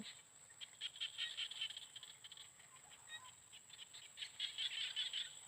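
Small frogs chirp and trill in a continuous chorus in rice fields at evening, faint and outdoors, with soft scattered calls overlapping throughout.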